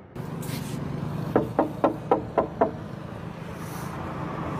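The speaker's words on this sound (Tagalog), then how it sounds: "May kumakatok." Six evenly spaced knocks sound on a door, sharp and moderately close, over a low steady background hum, with no voices.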